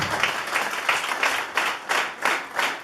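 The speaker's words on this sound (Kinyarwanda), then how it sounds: "Reka twongere dukomere Imana yo mu ijuru amashyi kandi." A church congregation claps together in a rhythmic run of about eight even bursts at a steady pace, a full, roomy applause with no speech.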